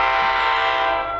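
A loud, sustained New Jersey Transit commuter train horn blast at Hazlet station, steady and close, ending abruptly after about a second as the train comes in.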